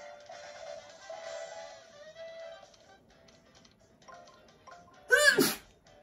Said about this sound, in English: Sorry, I sneezed again in the video.